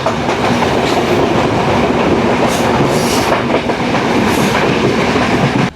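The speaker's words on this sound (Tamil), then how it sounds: "அதில் பார்த்தீங்கன்னா தெரியும் ட்ரெயின் அப்படியே திரும்புது" A passenger train on the Colombo to Jaffna line in Sri Lanka rumbles loud and steady from on board, with continuous rail noise and faint clickety-clack, and no talking.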